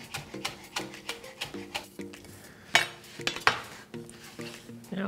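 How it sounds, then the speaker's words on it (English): A knife chops through rolled-up basil leaves on a board in a kitchen, a run of evenly spaced, close, crisp taps with a few sharper clinks of utensils and dishes near the end. "I'm just gonna roll up the leaves and chop it up."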